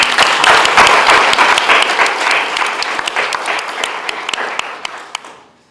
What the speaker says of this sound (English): So please join me in the round of applause for Mr. Hayek, Mr. Jedlička, and Mrs. Dietri